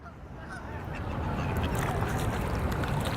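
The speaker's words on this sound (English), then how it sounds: "we keep feeding the ducks" Ducks and geese quack and honk continuously at close range while being fed outdoors, a busy overlapping chorus with water and background noise throughout.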